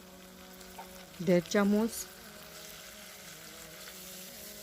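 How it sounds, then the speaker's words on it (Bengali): Onions with salt fry together in a pan with a low, steady sizzle that runs throughout, while a voice briefly speaks near the start. "এগুলো একসাথে একটু ভেজে নিব যাতে পেঁয়াজের গন্ধটা না আসে।"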